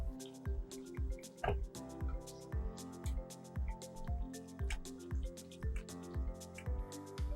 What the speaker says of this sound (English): let's grate some fresh tomatoes and stir those in too